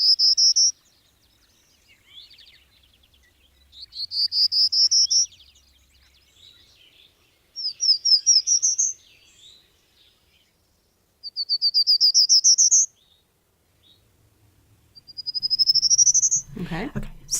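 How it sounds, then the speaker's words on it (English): Five buzzy, rising warbler song phrases repeat with short pauses between them, bright and fairly close, with a brief low rustle near the end. "This is a warbler as well"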